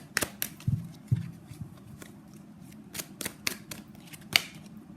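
Tarot cards being shuffled and drawn, a run of soft flicks, slaps and papery snaps at an uneven pace, close and fairly quiet.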